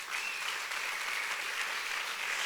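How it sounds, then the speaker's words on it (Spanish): Church congregation applauding for Jesus during a sermon, a steady wash of many hands clapping at moderate level, continuous and even throughout with no talk over it. "Dale un buen aplauso a Jesús"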